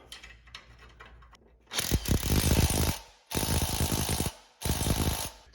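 A ratchet wrench tightens a new bolt on the upper ball joint of a Chevy Trailblazer, with three loud, close bursts of rapid clicking separated by short pauses.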